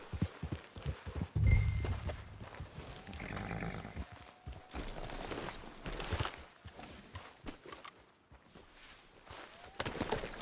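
Horse hooves clip-clop at a steady walking pace in Red Dead Redemption 2, mixed with game ambience and a few other background sounds, moderately loud.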